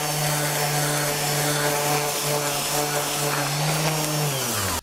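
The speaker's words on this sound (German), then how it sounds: "Jetzt schleife ich nur die Innenseite." Power sanding on the inner side of oak table wood, a loud continuous abrasive whir with a steady motor hum that holds level, then winds down at the very end.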